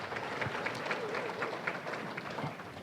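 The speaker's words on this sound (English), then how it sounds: "How about a huge round of applause for Terry Klauber?" Audience applause fills a room at a charity awards luncheon, a steady dense patter of many hands clapping at moderate distance, continuing evenly without a break.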